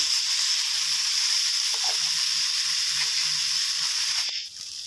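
Continuous loud sizzling and frying of a fish ball stir-fry with chili paste in a pan as plain water is poured in, steady hiss throughout with a brief clatter and dip near the end.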